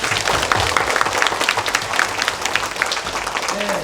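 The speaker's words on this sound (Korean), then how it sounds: "이 모든 사람들을 위해서 큰 박수 한번 보내주세요" Loud, dense applause from a citizens' forum audience on household waste and incineration facilities, a steady roar of many hands clapping close by for nearly four seconds without letting up.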